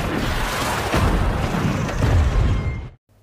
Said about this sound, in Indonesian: Sarge terpaksa mengeluarkan RPG dan meledakkan kontainer.